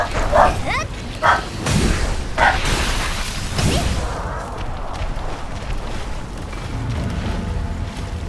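Three quick, moderately loud barks from a dog in the video game Code Vein open the stretch, then give way to a steady whooshing game background that fills the rest.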